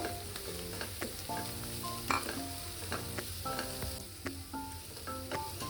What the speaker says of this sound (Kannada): ಇವಾಗ ಇದಕ್ಕೆ ಸಬ್ಬಸಿಗೆ ಸೊಪ್ಪನ್ನ ಹಾಕ್ಕೊಳ್ತಾ ಇದ್ದೀನಿ. ಇದನ್ನು ಹಸಿ ವಾಸನೆ ಹೋಗೋವರೆಗೂ ಫ್ರೈ ಮಾಡ್ಕೋಬೇಕು.